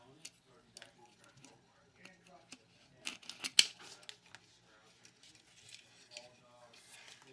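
Scissors snipping through a paper ornament cover for a Frosty Christmas ornament, a few quiet close clicks and cuts with soft handling rustle between them.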